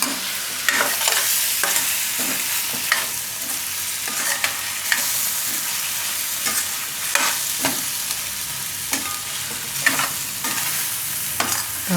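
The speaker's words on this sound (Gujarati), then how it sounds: "હવે બધું મિક્સ કરી લઉં આમાં." Spinach and eggplant curry being stirred and mixed in a pan, the spoon scraping in repeated irregular strokes with a sharp knock now and then over a soft, continuous sizzle.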